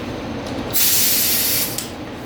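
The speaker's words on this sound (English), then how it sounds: "This is the first time using this airbrush." A brand new airbrush sprays paint in one steady hissing burst lasting about a second, close and loud against quiet surroundings, with no talking.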